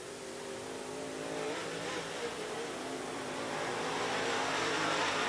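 Race car engine revving in the pit lane during a pit stop, a steady loud mid-pitched roar that builds slightly toward the end, with no voices over it.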